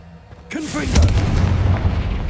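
A fire-spell blast in Hogwarts Legacy: one loud, close boom that bursts suddenly and rolls out in a deep rumbling tail.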